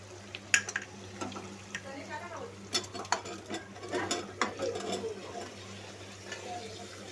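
A spoon scrapes and clinks in a pan as mixed vegetables are stirred into pulao rice, with irregular knocks and scraping over a low steady hum, moderately close.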